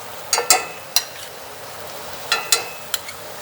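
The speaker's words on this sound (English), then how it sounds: "Over medium heat, I'm gonna let this black garlic and rosemary butter melt." Black garlic and rosemary butter melting over medium heat in a cast iron pan with two filet mignon steaks, giving soft, scattered sizzling crackles and pops over a quiet hiss, with no talking.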